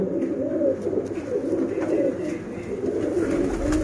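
Paired, high-flying breed pigeons coo continuously in low, rolling murmurs, several birds overlapping close by with a steady background hum.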